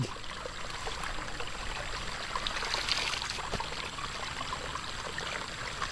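Steady trickling and splashing water running continuously into a pool, even and unbroken throughout, with no voices.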